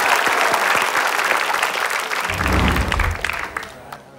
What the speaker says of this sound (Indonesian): Tepuk tangan dulu dong untuk Nadia, yuk.